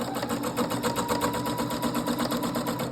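A sewing machine with a free motion foot and its feed dogs dropped runs steadily at a regular stitch length while swirls are quilted, making a rapid, even, close-up mechanical chatter with no pauses.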